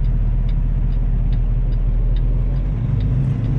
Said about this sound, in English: This car's coming, I gotta put my four ways on.